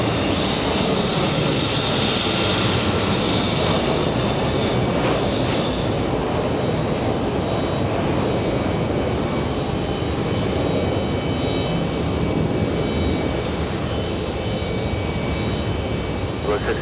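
Aircraft engines roar loudly and continuously at JFK airport during plane spotting, a powerful sustained rumble that swells and holds throughout, with speech faintly present beneath it.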